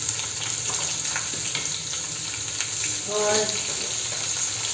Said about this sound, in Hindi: नमक डाल के थोड़ा सा फ्राई कर लेती हूँ।